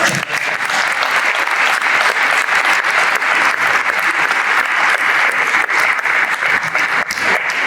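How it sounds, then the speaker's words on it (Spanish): A conference audience at a pharmaceutical industry forum round table applauds steadily and loudly for the full length, a dense continuous wash of many hands with no breaks. "Un aplauso, por favor."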